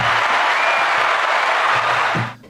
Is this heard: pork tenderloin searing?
no